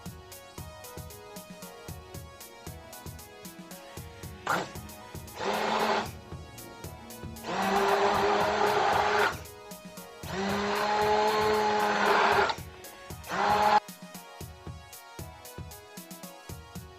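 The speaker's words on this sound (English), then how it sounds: "I'm going to use my immersion blender to get everything nice and smooth" An immersion blender purees bananas and cream cheese into a smooth banana layer, whirring loudly in four separate bursts of a few seconds each over quiet background music.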